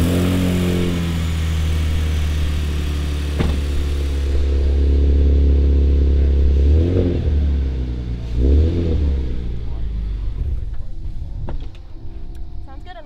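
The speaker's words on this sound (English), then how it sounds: "I am gonna turn the car on real quick and make sure it's not leaking." A car engine idles with a low rumble, then revs up a couple of times before settling, recorded close by, after an exhaust leak repair.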